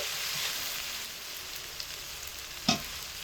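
Dried red chilli paste fries in hot oil in a pan with a steady close sizzle and hiss, plus a sharp stirring clink near the end and no talk.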